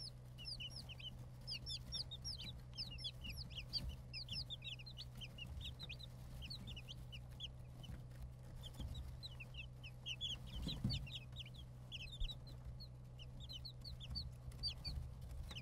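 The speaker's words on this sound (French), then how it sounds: "On met ensuite nos poussins." Newly hatched chicks placed into a brooder peep continuously in a quiet room, with a steady stream of small, high, overlapping calls over a low constant hum.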